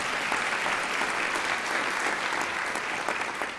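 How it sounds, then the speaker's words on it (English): An audience at a high school awards assembly applauds award recipients in a sustained, even wash of clapping, fairly distant and steady with no talk over it. "It's a great round of applause for you guys."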